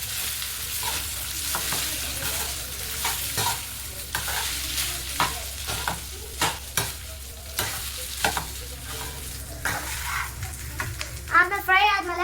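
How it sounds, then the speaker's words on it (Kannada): Cooked rice is stirred into hot ghee and cumin for jeera rice, with repeated spoon scrapes and knocks against the pan over a continuous low sizzle. "ನಂತರ ನಾವು ರೈಸ್ ರೆಡಿ ಮಾಡ್ಕೊಂಡಿದ್ವಲ್ಲ ಅದನ್ನ ಹಾಕೋಬೇಕು. ಇದನ್ನ ಮಿಕ್ಸ್ ಮಾಡ್ಕೋಬೇಕು."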